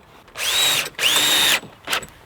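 A power drill drives screws into old pallet wood while a log holder is built, giving two long, loud whirring bursts and then a short final burst, close up with no talk.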